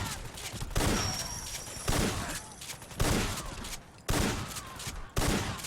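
Stevens M-520 shotgun blasts in Fallout 4, five heavy booming shots spaced roughly a second apart, each with a sharp onset and rolling tail, loud and close with no talk over them.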